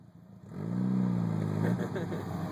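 A Jeep engine revving hard while mudding as the clutch is dumped, a loud rising mid-pitched drone that swells after a quiet start and holds with rough fluctuations, under excited voices.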